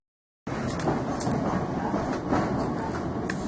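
A passenger train riding out of London Victoria rumbles steadily onboard, with a constant broad roar of wheels and carriage and faint rattles throughout.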